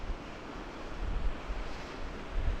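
The Waimakariri River flows past in a steady broadband rush, with low rumbling surges and some wind buffeting the microphone, and no voices.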